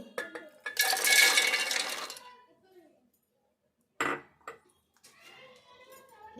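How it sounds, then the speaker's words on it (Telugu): A steel mixer jar being picked up and handled in a home kitchen, with a few short metallic clinks and knocks separated by pauses and a brief rustle. "మిక్సీ జార్ తీసుకొని"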